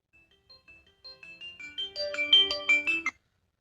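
A phone ringtone plays alone, a short melodic chime that starts softly with sparse notes and builds into a fuller, louder tune before cutting off.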